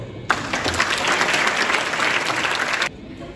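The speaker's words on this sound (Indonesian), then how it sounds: "Tepuk tangan dulu." An audience at a school gathering for MAN 4 Bantul breaks into steady applause that starts abruptly, holds at a dense, even level for about two and a half seconds, then cuts off.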